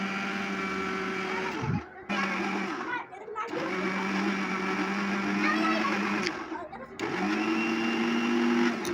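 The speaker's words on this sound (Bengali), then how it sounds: "ব্লেন্ডারে একবার এপাশ করবো।" Kitchen blender grinding mustard paste for kasundi, a loud whirring motor that runs in bursts and stops briefly several times, its pitch dropping and rising again around each pause.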